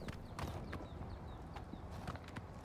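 Horse hooves clip-clop in a quick, steady rhythm in The Elder Scrolls IV: Oblivion Remastered, fairly faint, with occasional higher chirping tones over them.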